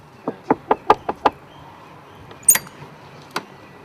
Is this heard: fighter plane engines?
no